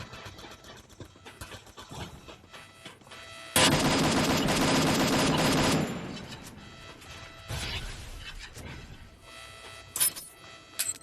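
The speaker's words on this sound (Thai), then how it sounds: "เหมือนมีคนยิงกันอยู่ใกล้ๆเรานี่เอง" Gunfire crackles nearby in a video game: a dense burst of rapid automatic shots lasts a couple of seconds, then scattered fainter shots and engine-like rumble follow, with no talking.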